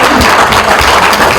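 Audience applause at the music launch event for the 2016 Hindi film Global Baba, a loud, dense wash of many hands clapping at once, continuous throughout.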